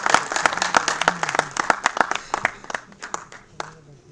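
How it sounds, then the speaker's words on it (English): A small audience claps to welcome a speaker at a faculty development program session on advanced cyber security, distinct individual claps that start brisk and thin out toward the end, with a voice murmuring underneath. "Let's welcome him with a huge round of applause."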